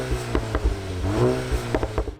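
A VW Golf GTI with a DSG dual-clutch gearbox revs on the Sepang International Circuit, its engine note rising and dipping through harmonic sweeps, loud and close, with mechanical clatter and wind buffeting mixed in.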